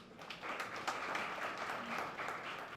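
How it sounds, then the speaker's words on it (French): Applause from a French-speaking audience at a constitutional law lecture, moderately loud and even, a brief continuous patter of many hands clapping. "Sous vos applaudissements, s'il vous plaît."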